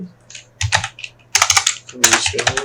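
Code is typed into a file on a computer keyboard in fast, loud, close bursts of key clatter, with a short pause before a denser run, no talking.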